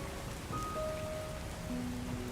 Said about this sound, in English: The rain doesn't seem to be letting up.